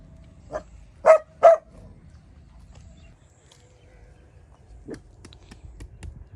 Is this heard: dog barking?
yes